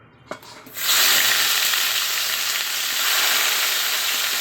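Onion and garlic dropped into hot oil with panch phoron burst into a loud, steady sizzle after a couple of soft clicks, the hiss of frying carrying on evenly to the end.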